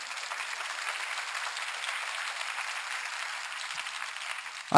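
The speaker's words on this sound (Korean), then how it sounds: "이게 좋으면 박수 한번 쳐봐요." Lecture audience of court officials clapping together, a steady dense wash of applause held evenly throughout, fairly close and without talk over it.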